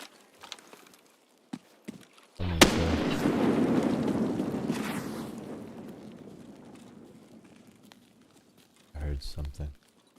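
Gunfire and a grenade blast in Escape From Tarkov: a few sharp shots, then a heavy explosion that rumbles and slowly fades, followed by another short burst of gunfire, with a voice talking in between.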